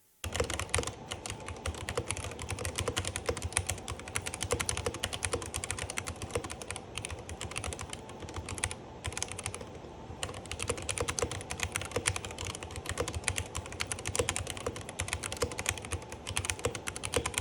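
Steady, dense typing on a Redragon Devarajas K556 SE mechanical keyboard, close and clear, with rapid clicky keystrokes running continuously without talk.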